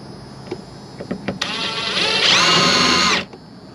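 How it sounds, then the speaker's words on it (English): A power drill bores a hole into a loudspeaker: a few soft handling knocks, then the motor winds up into a loud, steady high whine for about a second and cuts off abruptly. "Let's go ahead and drill one right up here."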